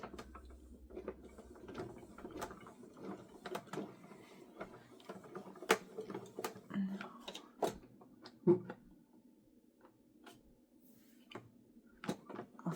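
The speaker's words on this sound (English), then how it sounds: "I'll feed it through my die cut machine." A die cut machine feeding magnetic plates through its rollers, heard as a quiet, uneven stream of mechanical clicks, ticks and soft grinding, with sharper taps scattered throughout, and no one speaking.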